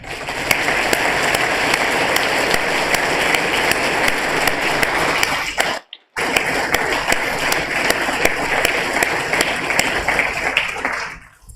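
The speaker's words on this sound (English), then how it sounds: "I think they deserve a round of applause" Sustained round of applause at a fire department awards ceremony honoring firefighters, dense steady clapping from a large crowd, briefly cut by a gap midway before resuming and fading at the end.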